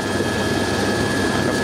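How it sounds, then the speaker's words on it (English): A helicopter lifts off from a heliport, its rotor and engine producing a steady, loud, close roar with a constant whine that fills the whole clip. "This is the takeoff from the heliport."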